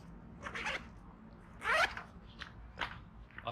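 A zipper drawn along a transparent TPU pocket on a tactical laptop bag, a few short rasping pulls with one quick, louder zip in the middle, close and alone.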